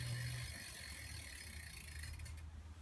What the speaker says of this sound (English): Pedaling, you'll hear the motor fire up.